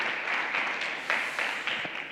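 Audience applause at a GoDigital 2021 business event as a guest is invited up on stage: a steady, moderate wash of clapping from a crowd, slightly distant, with a few louder bursts, no talk over it.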